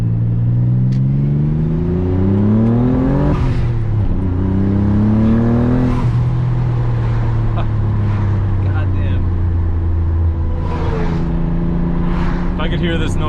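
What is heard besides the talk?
Nissan 300ZX twin turbo engine revving while driving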